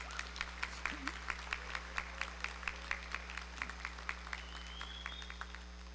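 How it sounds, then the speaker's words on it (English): A graduation-ceremony audience at a cinema school claps, but the clapping comes through as faint, regular, fairly even claps over a steady hum rather than a dense ovation, as if from a sparse or distant crowd. "give a huge round of applause to the speeches that came before me"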